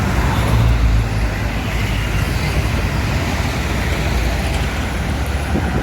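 A bus rolling past in dense, steady road traffic on a highway toward Palembang, a continuous loud roar of engines and tyres with no clear pauses.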